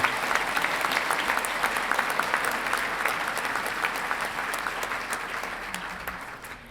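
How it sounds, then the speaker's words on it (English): Loud, dense audience applause fills a university graduation ceremony at a college of veterinary medicine, a sustained clapping crowd honouring faculty and staff that holds steady and slowly tapers off. "could we have a round of applause for all the faculty, staff, and those that have supported you?"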